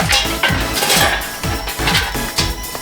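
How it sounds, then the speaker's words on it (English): Hot charcoal tumbles from a Vortex charcoal holder into a kettle grill, making loud, close clattering and clinking knocks in an uneven series of rapid hits. "Now we take the vortex and drain the charcoal"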